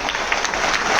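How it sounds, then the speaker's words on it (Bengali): An audience at an award and gift-presentation event applauding, a dense, steady burst of clapping from many hands filling the whole moment without talk. "এটা জোরে হাততালি।"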